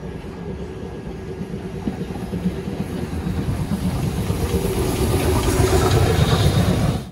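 A Chichibu Railway SL Paleo Express steam excursion train, hauling 12-series passenger cars, rolls on with a continuous low rumble, growing gradually louder and nearer before cutting off at the end.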